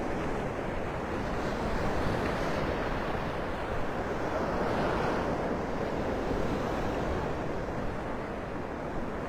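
Ocean surf rolls steadily onto the beach at Pelican Bay in North Naples, Florida, a continuous broad wash of waves mixed with wind noise on the microphone, with no voices.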